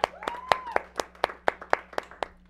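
Small audience at a year-end local variety show giving sparse, evenly spaced claps, about ten sharp hand claps in a steady rhythm, close and fairly loud, with a brief rising vocal whoop partway through.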